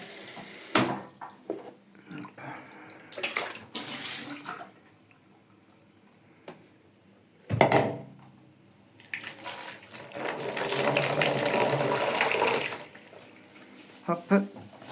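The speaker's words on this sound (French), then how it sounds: "Mettre de l'eau dedans. Pour mettre le pantalon." Water runs into a basin to wash trousers, splashing in bursts between handling noises, then a longer steady gush from a tap, close and moderately quiet, with no talking.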